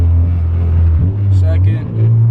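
A car engine holds a low steady drone, dips briefly as a gear change happens, then settles back to a steady hum, close and loud, with a voice speaking over it.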